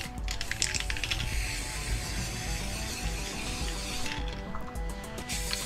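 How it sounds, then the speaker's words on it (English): Black aerosol spray paint hisses in bursts onto a plastic chain, close and steady, with faint clicks and rattles of the chain and can under the continuous spray. "I'm just basically spraying it now with some, well, I wanted to do multicolours but I only had black."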